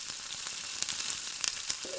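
Tomato, capsicum and potato sauté in an oiled pan for paneer biryani, a soft continuous sizzle with occasional light pops and stirring scrapes, fairly quiet and with no talking.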